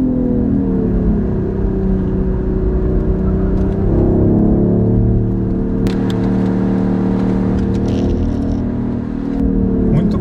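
A BMW i8 sports car accelerating from inside the cabin, a steady mid-pitched engine drone rising in intensity over about ten seconds, loud and close, with people talking over it.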